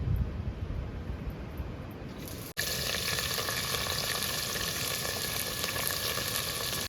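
Onion frying in hot oil for a desi dedar dish: a soft background hiss swells into a dense, loud, steady sizzle after a brief break midway, close up and without speech.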